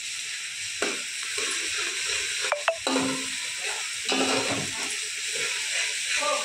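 Spice paste frying in hot oil with onions and garlic for a Konkan black crab bharit, a steady loud sizzle and hiss with occasional stirring scrapes and clatter.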